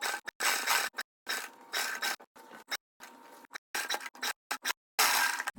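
A sewing machine stitching around the neckline of a summer daily-wear kurti, running in short rapid mechanical bursts separated by brief pauses, close up and without talk.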